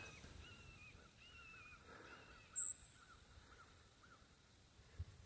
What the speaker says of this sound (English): And you can hear the birds.